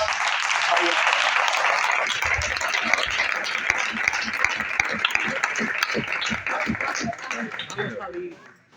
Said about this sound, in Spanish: Un aplauso, iglesia.